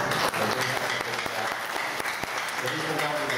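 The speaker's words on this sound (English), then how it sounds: "Can we give Boyce another round of applause?" Applause from a conference audience, a dense, steady patter of many hands clapping at moderate distance, with some talk mixed in underneath.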